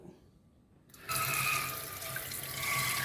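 Water from a kitchen tap bursts on after a quiet second and streams steadily into a pot being rinsed out, a close, continuous splashing rush that holds to the end.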